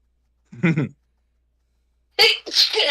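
A single short sneeze up close, followed after a pause by a louder, sharper sneeze burst.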